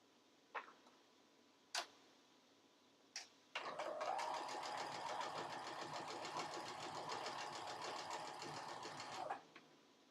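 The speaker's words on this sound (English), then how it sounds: "Sew up this edge here." A few sharp isolated ticks, then a sewing machine runs steadily for about six seconds, stitching a cotton fabric edge with a close, even rattling whir before stopping.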